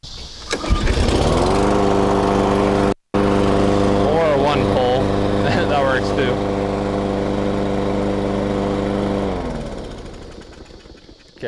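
A push lawn mower engine starts after a pull and settles into a loud, steady run with a strong harmonic drone, a brief dropout near the start, then winds down near the end.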